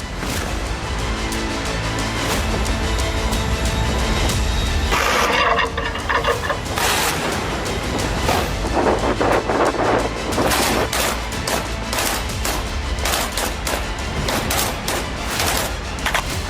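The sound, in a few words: Russian warship Admiral Kasatonov artillery firing practice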